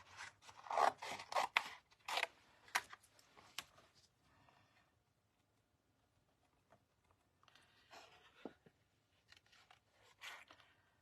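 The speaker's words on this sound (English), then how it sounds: "when you fussy cut, you move the paper, not your scissors" Scissors snip through paper in quick bursts of short, crisp cuts, with a long quiet pause in the middle before a few fainter snips return. No one speaks.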